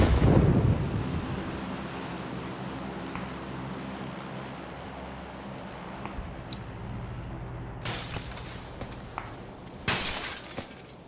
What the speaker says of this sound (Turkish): cam nasıl kırıldı